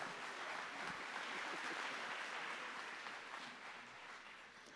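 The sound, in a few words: congregation applause in church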